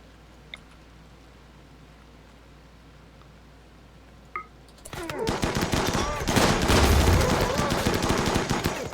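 Bolt action rifles open fire in a colony-building video game battle, starting with a few isolated clicks and then swelling into dense, rapid volleys of loud gunfire that continue to the end.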